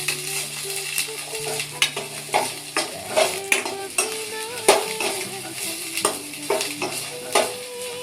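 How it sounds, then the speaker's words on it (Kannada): Masala fries in hot oil for an egg green masala, a soft steady sizzle broken by repeated spatula clinks and scrapes against the pan, fairly quiet and close. "ಸ್ವಲ್ಪ ಫ್ರೈ ಮಾಡ್ಕೋಬೇಕು."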